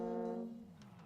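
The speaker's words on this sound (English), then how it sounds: "I heard a boat." A boat horn sounds on a foggy pond in Placid Plastic Duck Simulator, a low sustained harmonic tone that starts loud and then fades over about a second, with faint ambient game sounds afterward.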